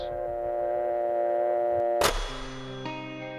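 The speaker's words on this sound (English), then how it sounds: "remove the receiver and listen for the dial tone" A steady telephone dial tone hums for a couple of seconds after the receiver is lifted, then a sharp click cuts in and a different, lower tone follows.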